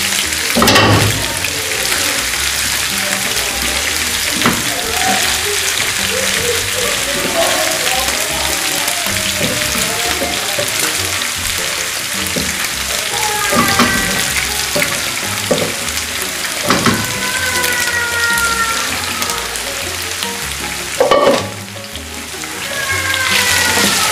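Mutton frying in a pan for a quick mutton fry, a steady broadband sizzle running throughout at close range, with occasional clatters and someone speaking intermittently over it.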